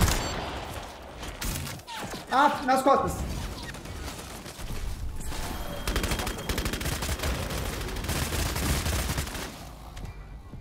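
Gunfire in the PS5 game Bloodhunt: a burst of shots and impacts amid game effects, with players talking excitedly over the action.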